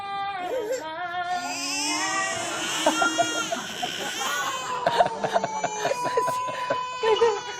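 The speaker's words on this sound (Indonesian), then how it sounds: "di video ini menunjukkan beberapa bayi yang menangis ketika mendengarkan ibunya bernyanyi" Several babies cry and wail while their mother sings to them, sobbing cries rising and falling with bursts of voices and singing mixed in.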